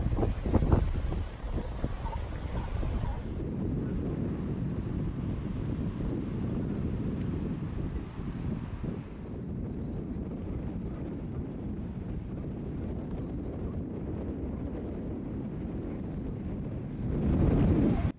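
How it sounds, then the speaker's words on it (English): Fierce wind on the rocky Pacific coast along 17-Mile Drive at Pebble Beach roars steadily across the microphone for the whole stretch, a dense low rumble that masks everything else. "the wind is just too fierce. It's drowning most of it out"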